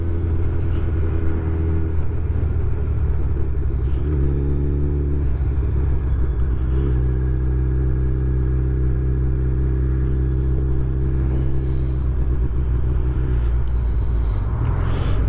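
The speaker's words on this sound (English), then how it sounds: "I can tell, giving it some gas and it sputters a little bit." A Suzuki Hayabusa engine runs on a cold winter day with a steady, loud, low rumble that rises and falls with light revving over fifteen seconds, a little uneven as it sputters.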